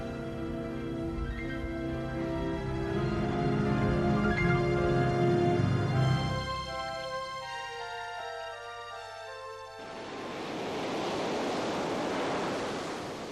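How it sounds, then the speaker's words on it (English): Ocean waves wash onto the shore at Patara on the Anatolian coast, a broad rushing surf that swells, eases and builds again, steady and fairly close with no voices. "waves carry the tears of Antiochus I to the shores of Patara"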